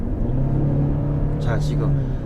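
A Genesis GV70 2.5T four-cylinder gasoline engine pulls hard uphill with a steady low drone under someone talking in Korean inside the cabin.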